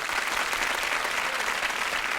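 A studio audience at a Vietnamese television game show for married couples claps steadily, a dense and even wash of many hands that fills the whole stretch without pause or voices.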